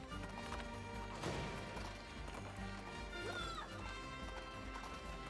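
Horse hooves clip-clop steadily in the Princess Peach Showtime video game, a continuous galloping beat under busy game music and crashing effects, with no talk.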